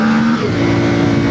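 A CFMOTO Ibex 450 motorcycle engine revs loud and close, its pitch dipping then climbing sharply in a quick throttle blip at the end, with no voices over it.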